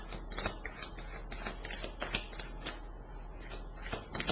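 Tarot cards shuffled by hand in a steady run of soft riffling slaps and papery patter, close and continuous throughout with no talking.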